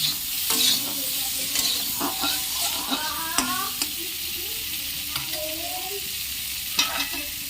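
Paneer pieces lightly frying in a pan while being stirred, with a continuous sizzle broken by frequent scraping and tapping of the spatula, close up and without speech.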